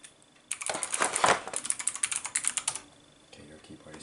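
Rapid bursts of typing on a linear mechanical keyboard, a dense clatter of keystrokes for about two seconds, then a few scattered, fainter clicks, close and clear with no talk over it.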